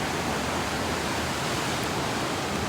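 Floodwater rushing down a street after heavy rain in Burlington, Ontario, a loud, dense, unbroken roar of turbulent water throughout, with no voices.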